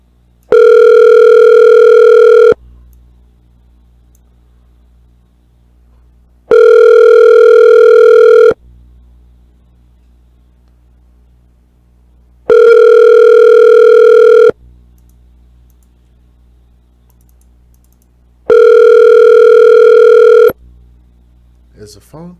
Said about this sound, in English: Is the phone picking up?